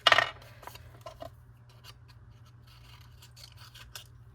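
Paper being cut with scissors, fibers included, in a short quiet run: a louder snip at the start, then a few sparse, faint snips and rustles over a steady low hum.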